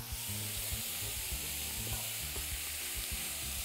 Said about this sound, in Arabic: تشويح تشويح، قلاي سخنة جدا جدا جدا، وعلى طول بنزل بالبصل وراها